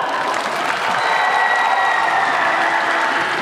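Audience applause at the Busan International Film Festival open talk for the film Broker, a dense steady clapping from a packed crowd, loud and sustained throughout, with faint voices mixed in.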